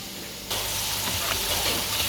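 Fish meat fries in hot oil for a chili-sauce fish dish, a sudden dense hiss of sizzling that starts after a brief quieter moment and holds steady and loud to the end.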